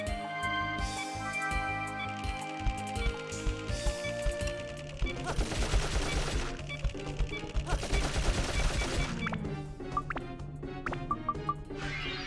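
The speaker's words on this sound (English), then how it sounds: "They're machine guns." Machine guns fire in the Dark Cloud video game as rapid, repeated bursts of gunfire over layered game music, with louder dense volleys in the middle.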